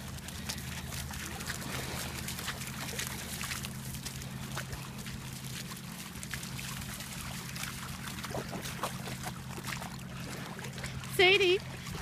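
A dog named Sadie wades in water on an afternoon walk, giving a steady soft splashing and trickling over a low constant hum, with a short sharper burst near the end.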